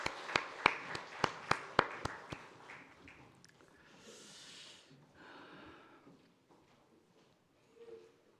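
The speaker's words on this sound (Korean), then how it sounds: "하나님께 영광 박수드립니다." A church congregation at a Sunday service claps in unison, about eight sharp evenly spaced claps, then the sound fades into rustling and murmuring in a reverberant hall.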